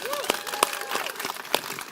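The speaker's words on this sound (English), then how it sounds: "let's give them a round of applause for their support" An audience at a Robinhood crypto announcement event claps in scattered, fairly light applause, with a few sharper individual claps standing out over a brief, busy stretch.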